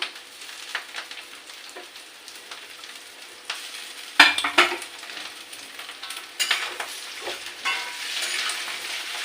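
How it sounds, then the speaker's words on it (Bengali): Gourd leaf rolls frying in a pan give a steady close sizzle, with several scraping stirs of a spoon and one sharper clatter partway through, and no voices. "এবারে আর একটু ভালো করে নাড়াচাড়া দিয়ে দিচ্ছি"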